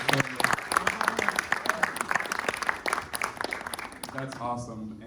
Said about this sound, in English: So if you all can join me to give them a round of applause